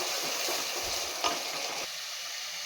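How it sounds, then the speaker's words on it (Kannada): Spice tempering for a chickpea, potato and brinjal masala sambar fries in hot oil with a steady close sizzle, a brief stirring scrape midway, then a quieter hiss as the stirring stops. "ಹಾಕ್ಕೊಂಡು ಇದು ಹಸಿ ವಾಸನೆ ಹೋಗೋ ತನಕ ಫ್ರೈ ಮಾಡ್ಕೊಬೇಕು"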